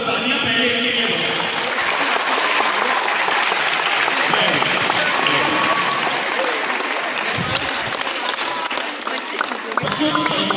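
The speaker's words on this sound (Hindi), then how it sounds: "एक बार जोरदार तालियां पहले इनके लिए हो।" A room full of children gives a loud round of applause welcoming a guest snake expert, dense close clapping that runs throughout with a few brief shouts mixed in.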